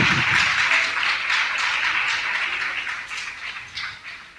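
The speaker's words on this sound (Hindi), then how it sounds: "ताली तो बजा दो उन लोगों को" A crowd claps together at a Jain sermon by a female ascetic: steady, dense applause that holds for several seconds and slowly fades a little, with no talk over it.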